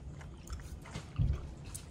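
Chewy caramel corn snack being chewed up close, soft low mushy bites with a louder burst near the middle, no talking.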